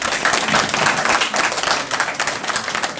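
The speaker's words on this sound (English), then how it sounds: "a round of applause." Applause at a debate competition awards event, a dense crowd clapping steadily for about three seconds, loud and close, with no speech over it.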